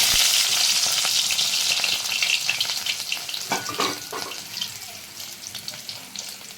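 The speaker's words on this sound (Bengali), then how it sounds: "থেতো করা রসুন আমি দিয়ে দিলাম তেলে" Crushed garlic hits hot oil with a loud burst of frying hiss that slowly settles into a crackling, spitting sizzle. Scattered pops break through, and the sound fades gradually.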